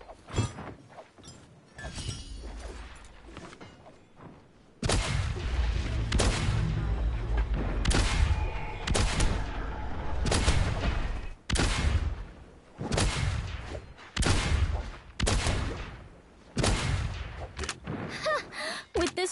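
Video game gunfire: repeated bursts of shots and booming impacts over nearly twenty seconds, interrupted by brief gaps, with game voices speaking over parts of the action.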